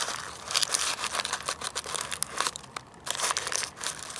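Masking paper is crumpled and stuffed into a 2014 Honda Dio scooter before it is painted: busy, close crinkling and rustling in irregular bursts, with no talk.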